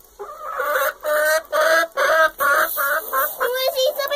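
Chickens clucking in a steady series of loud, nasal calls, each a short burst close by, repeating about every half second without talk.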